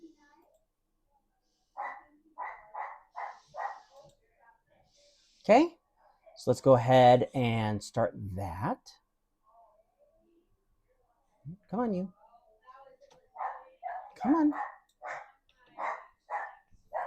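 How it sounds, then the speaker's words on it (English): A dog barks in short rapid bursts from another room, with a whimpering yip in between, while a person talks nearby. "Our dog is going crazy."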